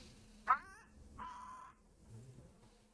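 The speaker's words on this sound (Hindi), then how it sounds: "ये तो तोते की आवाज है।" A parrot's call, a loud, sharp wavering squawk followed by a longer, steadier screech, then a faint lower cry, heard alone with no talking.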